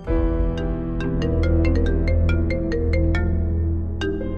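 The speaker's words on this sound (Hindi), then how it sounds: "फोन आ रहा है, उठाओ" A mobile phone rings with a loud, steady repeating electronic ringtone over a sustained tonal bed, continuous throughout with no talking.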